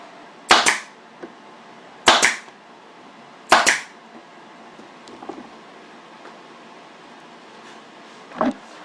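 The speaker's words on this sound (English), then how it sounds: "The next step will be to put the vinyl back on and staple it back on." Staple gun fires three sharp, evenly spaced snaps and one more a few seconds later, fastening vinyl onto a Honda DN01 motorcycle backrest, close and loud against a quiet room.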